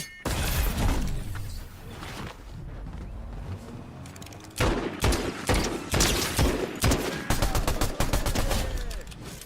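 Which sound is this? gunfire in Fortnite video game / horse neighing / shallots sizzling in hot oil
gunfire in Fortnite video game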